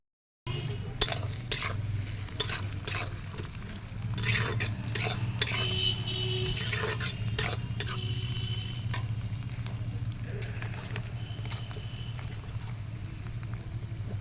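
Chopped capsicum and onions sizzling in a pan over an outdoor wood fire, with repeated sharp scrapes and clinks of a spatula stirring against the metal, over a low steady hum, and no voices.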